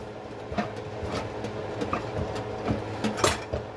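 A spoon stirs pasta in a pot on the stove while alfredo is being made, giving scattered metallic clinks and scrapes over a low kitchen hum, with no voices.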